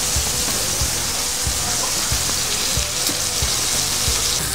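Rib eye steak searing in a hot pan over medium-high heat with rosemary sprigs and a garlic clove, a loud continuous sizzle dotted with regular crackling pops, close up and without voices.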